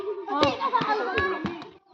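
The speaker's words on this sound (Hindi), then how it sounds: "ताली मार दियो" Children clap their hands during a group play activity, with a handful of sharp, irregular claps ringing out over the kids' continuous chanting voices.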